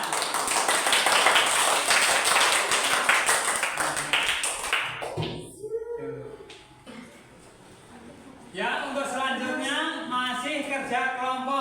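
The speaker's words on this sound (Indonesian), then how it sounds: "Tepuk tangan." A classroom of students claps for the winning groups: a loud, dense burst of hands for about five seconds dies away, then voices rise in unison.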